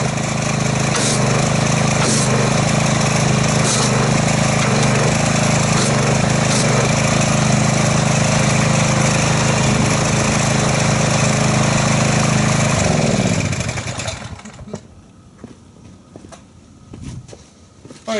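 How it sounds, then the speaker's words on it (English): A pressure washer roars loudly and steadily for about thirteen seconds during a car wash, then cuts off, leaving faint clatter and near quiet. "we'll get our pressure washer and I'll see what kind of foamage we get from that"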